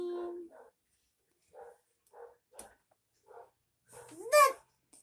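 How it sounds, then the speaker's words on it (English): A pet dog barks in a home during a morning wake-up, giving a few short barks and a higher yelp near the end, moderately close, with someone talking to the dog and to small children around it. "Yeah, Maggie, no barking."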